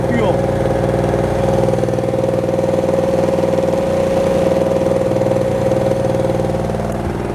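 A two-stroke portable generator of about 800 running watts, burning premixed oil and fuel, runs at a steady close hum with a constant buzzing drone and no change in speed.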